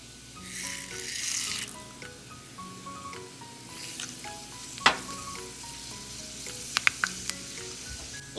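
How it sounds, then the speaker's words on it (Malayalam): Fenugreek seeds added to hot oil with popping mustard seeds for a Kerala fish curry, a close steady sizzle with a few sharp pops and light stirring clicks, and no voices. "ഇത് പൊട്ടിക്കഴിഞ്ഞിട്ട് ഈ ഉലുവയും കൂടെ ഇട്ട് കൊടുക്കാം."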